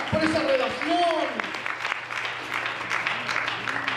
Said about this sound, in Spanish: Un aplauso a la gloria del Señor Jesucristo por esa salvación tan grande